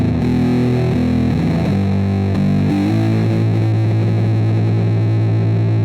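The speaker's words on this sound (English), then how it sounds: "when I'm thinking of shoegaze, dream pop, and even grunge to some extent, I'm thinking about using the Big Muff." An electric guitar through an old Big Muff fuzz pedal for shoegaze and dream-pop tone, thick saturated chords that bloom into a dense sustained wash, loud and unbroken with no talking.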